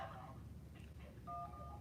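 Telephone line tones sound as a call is picked up on a phone-in show, a short burst of steady electronic beeps near the end over a low background hum.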